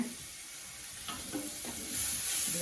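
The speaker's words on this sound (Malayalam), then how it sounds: "ഇതാ ഇഞ്ചി, വെളുത്തുള്ളി, പച്ചമുളക്, തക്കാളി ഇതെല്ലാം അരിഞ്ഞിട്ട് ഇതാ ഞാൻ അതിലേക്ക് ഇടാൻ പോവാണ്." Chopped ginger, garlic, green chili and tomato sizzle and fry in a pan, a steady close hiss with a few soft stirring clicks and a louder burst of sizzling toward the end.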